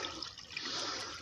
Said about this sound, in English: You can see the water is running pretty good.